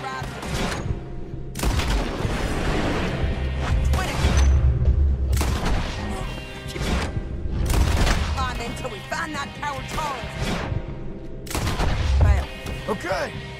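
Rifle gunfire at a camp in Red Dead Redemption 2, loud bursts of shots and booms recurring roughly every two seconds over a dense, busy game soundscape.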